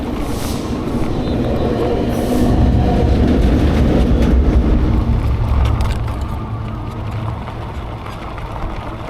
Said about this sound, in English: Oh yeah, there goes the train.